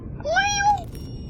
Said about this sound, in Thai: น้องแมวอ่ะ แงมแงม